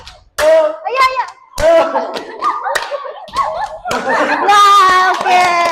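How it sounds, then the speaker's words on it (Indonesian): Children clap their hands in a classroom during a lesson about Prophet Sulaiman, with a few sharp claps scattered among lively children's voices and chatter. "Nah, oke, tepuk tangan."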